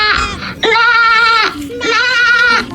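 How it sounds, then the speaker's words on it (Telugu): A goat gives two loud, close, wavering bleats in quick succession, each about a second long. "గోట్ అంటే మేక"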